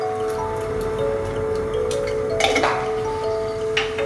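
Mustard seeds popping in hot coconut oil: scattered sharp ticks and small crackles over a steady background hum, with a brief cluster of louder pops near the middle.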